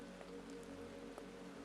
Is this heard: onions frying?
no